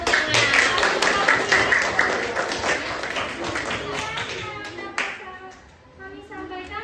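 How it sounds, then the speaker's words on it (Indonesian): Hands clapping at a school event in Indonesia, a burst of brisk claps that thins out and fades toward the end, with children's voices faintly mixed in. "Tepuk tangan"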